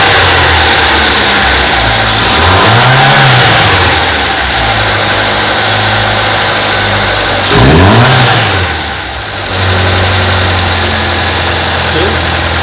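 A Fiat Uno 1.0 Fiasa engine idles steadily, then revs up and back down twice, each throttle blip rising and falling close by and loud, with a hum running throughout.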